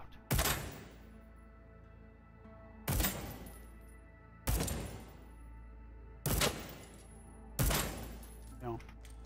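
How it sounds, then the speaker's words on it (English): Gunshots fired at props in Deathloop, five sharp loud reports spaced about two seconds apart, each with a short ringing tail, with no talking. "Do objects break if you shoot them?"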